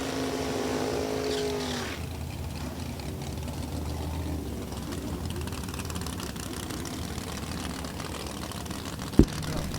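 A Ford Mustang and a Dodge Dart drag race at a raceway, engines droning steadily at a distance beneath a broad roar of crowd and track noise, with a sharp thump near the end.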